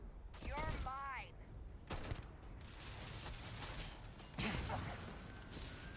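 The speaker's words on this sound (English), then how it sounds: "this is like an anti-material rifle" Heavy anti-material rifle fire in Starfield, with several sharp, booming shots spaced across the span, a whooshing sweep and mechanical clatter, set among game effects and a speaking voice.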